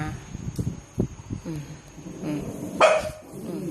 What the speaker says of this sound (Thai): เห่าเก่งค่ะ ตัวเล็กมีภู